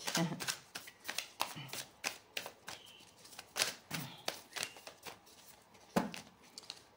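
Tarot cards are shuffled and cut in quick riffling bursts, a series of crisp, papery flutters and taps at a brisk irregular rhythm, close and soft, with no talking.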